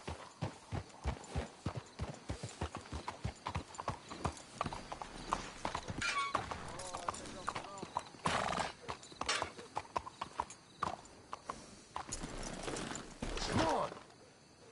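Horses' hooves in Red Dead Redemption 2 clip-clop steadily at a walking pace on hard ground, with occasional snorts and a whinny, and a voice briefly speaking over them.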